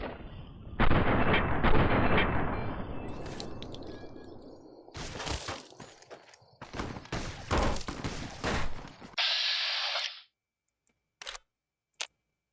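Gunfire in the video game Fallout New Vegas: loud, dense bursts of shots and rapid fire over several seconds, followed by a sustained mechanical rush, then near silence broken by two brief isolated hits.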